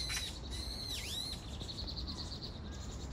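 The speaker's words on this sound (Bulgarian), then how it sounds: "Не знам тази птичка каква е." Birds alarmed by a cat near their nests give a sharp, swooping high call followed by a run of rapid repeated chips, fairly close, over a low rumbling outdoor background.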